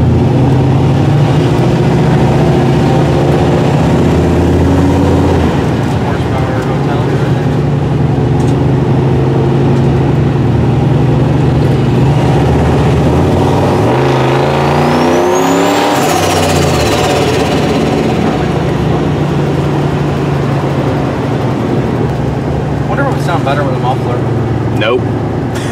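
An LS turbo engine swapped into a Winnebago motorhome runs with a loud, steady droning rumble heard from inside while driving. People talk over it throughout, and a brief passing swoosh comes midway.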